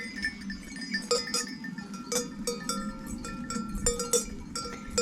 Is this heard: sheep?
yes